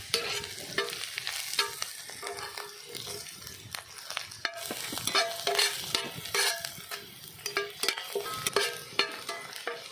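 Dried red chillies fry in oil in a village kitchen pan for a quail pepper fry, giving a continuous crackling sizzle with frequent sharp scrapes and knocks of stirring, close and fairly loud.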